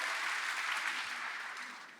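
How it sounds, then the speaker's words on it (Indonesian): A church congregation at a Sunday service applauding, a dense wash of clapping that fades slightly toward the end, heard at moderate distance without clear talk. "Tepuk tangan bagi Allah kita"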